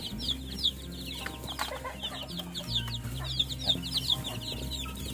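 One- to two-week-old baby chicks crowd a full nursery pen, filling it with continuous overlapping high-pitched peeps and chirps over a steady low hum.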